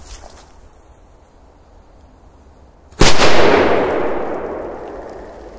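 A bundle of firecrackers goes off in a single sharp, loud blast after a few seconds of quiet outdoor background, its roar and echo fading slowly afterward.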